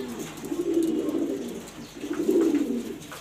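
Two distinct bouts of deep rolling cooing from Super Mili pigeons, a male with his hen, each lasting about a second, nearby and moderately quiet with a pause between.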